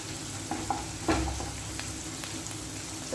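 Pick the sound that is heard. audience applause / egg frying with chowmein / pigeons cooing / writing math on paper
egg frying with chowmein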